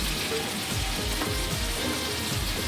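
Prawns sizzle steadily in a hot pan as they are fried and turned, a dense close crackle of oil that continues throughout with no voices.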